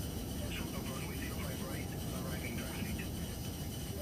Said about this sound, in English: I can hear the plane.